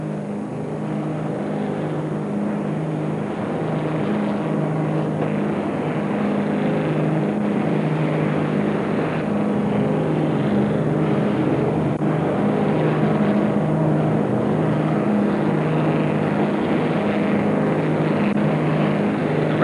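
Offshore powerboats racing across Lyme Bay in calm water, including a catamaran driven by two 100 horsepower outboards: a steady, continuous engine drone that holds evenly for twenty seconds, with no speech.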